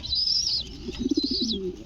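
A racer pigeon gives a low, throbbing coo in a quick burst of pulses, close and distinct, over a steady high hiss from the background.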